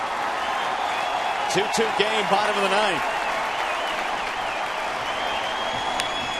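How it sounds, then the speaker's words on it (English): Baseball stadium crowd at a Chicago White Sox at Detroit game, late innings, rising to its feet with broad, steady cheering and applause under a play-by-play announcer's voice. "Crowd coming to its feet now."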